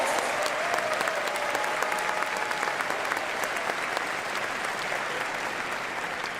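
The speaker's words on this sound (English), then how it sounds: "Please give him a round of applause." A large audience at a university commencement ceremony applauds continuously, a dense, steady roar of clapping that holds its level throughout with faint cheering mixed in.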